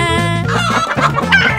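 A chicken clucks loudly and close in rapid bursts, a choppy run of throaty calls filling the short moment without any talk.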